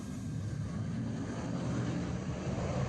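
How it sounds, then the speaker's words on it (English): A Mirage 2000 fighter jet landing on the Yamuna Expressway near Delhi gives off a low, steady engine roar, fairly faint and unbroken. "A Mirage 2000 fighter jet successfully test landed on the Yamuna Expressway just outside of Delhi this"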